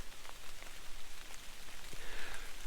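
Rain falls steadily during a hike on a wet, muddy trail in the Boundary Waters, a close, even hiss with scattered individual drops pattering nearby throughout.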